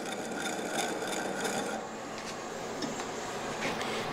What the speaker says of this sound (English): you're literally pressing the wood, or the tool against the wood, and you're scraping the fibers